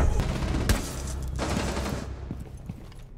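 Video game gunfire rattles in rapid overlapping bursts, loud and close at first, with sharp individual cracks, then thins out toward the end.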